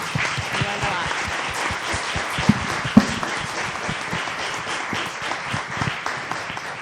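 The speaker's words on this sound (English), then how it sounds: "Please, let's give another round of applause to our panelists." An audience claps for panelists at a live-streamed event, a steady mid-level round of applause lasting several seconds with a few sharper individual claps, under light talk.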